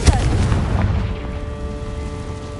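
A Confringo blasting spell explodes in the Hogwarts Legacy video game, a loud, close boom at the start that rumbles and decays over the next couple of seconds, leaving a faint tonal ring.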